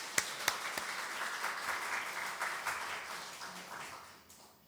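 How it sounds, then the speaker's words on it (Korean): Church congregation applauding during a Sunday worship service to welcome two missionaries from Kenya, a dense wash of clapping with a few sharper claps up front, steady for several seconds and then tapering off, with no talk. "박수로 한번 맞이해 주시기 바랍니다."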